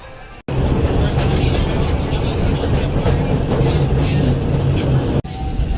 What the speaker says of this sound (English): Jumping on the train for the first time since it reopened.